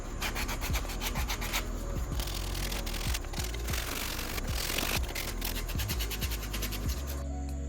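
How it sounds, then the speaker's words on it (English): Sandpaper rubs back and forth on a handmade wooden Bowie knife in steady, rhythmic rasping strokes, close and continuous with brief pauses, no talking. "now the fun part, sanding and sanding"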